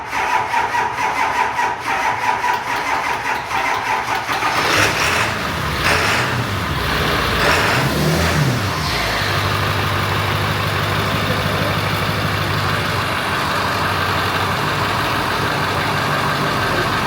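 A rusty Ford F350 dually truck engine cranks with a rasping, grinding starter sound, catches, and settles into a steady rough idle that carries on alone.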